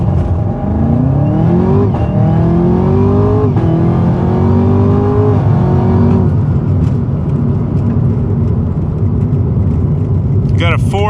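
A Camaro ZL1 1LE launches hard and accelerates through a 0 to 60 run, its engine note climbing in rising sweeps with gear changes, loud and close throughout with no talk over it.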